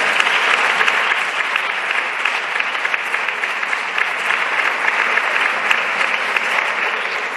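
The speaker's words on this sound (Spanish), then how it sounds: "Ya sé que estos aplausos no gustan nada en las bancadas del partido holandés" Sustained, dense applause fills a parliament chamber, loud and close, with many hands clapping continuously and evenly throughout.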